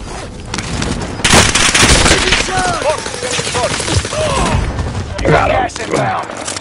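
Shooter-game gunfire crackles in loud, rapid bursts that come and go, clustered early and again near the end, while a player talks over much of it.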